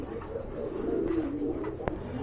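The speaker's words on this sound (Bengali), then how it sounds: "ডাবল বার মাশাআল্লাহ খুবই সুন্দর ডাকতেছে" A double bar grizzle pigeon coos in a low, rolling, continuous phrase nearby, with a sharp click near the end and no talking.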